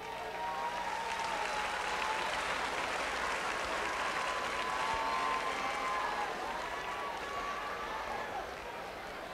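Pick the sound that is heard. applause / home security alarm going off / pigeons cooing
applause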